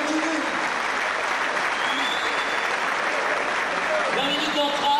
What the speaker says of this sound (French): Alors vous pouvez encore une fois les applaudir